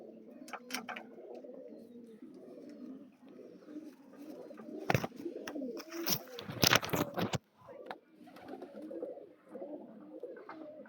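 Soft, low cooing from Madrasi pigeons repeats steadily close by, with a burst of wing flaps or rustling in the middle.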